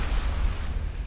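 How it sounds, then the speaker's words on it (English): Torpedo hits in a naval warfare video game set in 1929 roll out as a heavy, continuous rumbling explosion, loud and low, with no voices over it. "Bunch more torpedo hits."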